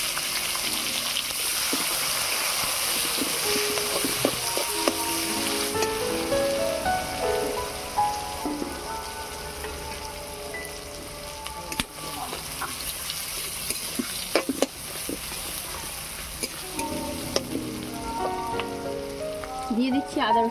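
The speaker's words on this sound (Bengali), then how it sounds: "এবারে দিয়ে দেবো পেঁয়াজ কুচি।" Chopped onion frying in oil with nigella seeds and dried chili for a katla kalia, a steady dense sizzle and crackle close by, with occasional stirring clicks.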